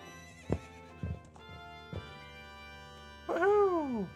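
In the Ocarina of Time video game, a few heavy hoof thuds and clip-clops sound separately, then a loud, bright horse whinny rises and falls near the end.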